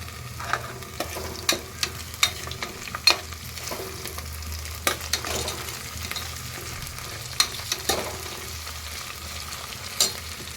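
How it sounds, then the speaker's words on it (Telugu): Mutton curry base frying with freshly pounded ginger garlic paste, a steady sizzle in the pan broken by sharp, regular scrapes and taps of a stirring spoon, close and fairly loud. "ఇదిగోండి ఫ్రై అవుతుంది"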